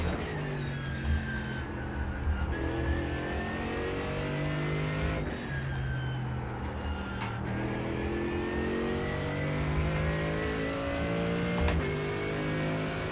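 Mercedes race car in a racing video game at the Nürburgring, engine droning loud and steady, pitch climbing through gears with quick drops as it downshifts, continuous revving throughout.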